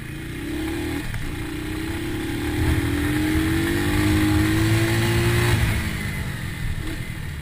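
A 2020 Bristol BR 250 motorcycle engine droning close and loud during a high-speed slalom, pitch rising steadily as it accelerates, then easing off near the end.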